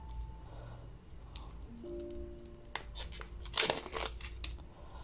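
Packaging around a pair of wooden stamps is cut and pulled open close by, with faint snips, crinkles and a sharper rustle near the end against a quiet room.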